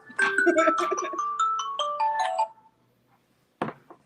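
A cell phone ringtone plays a bright electronic melody of rising and falling tones for about two and a half seconds at a song and video launch event, then cuts off, followed by a short burst of sound near the end.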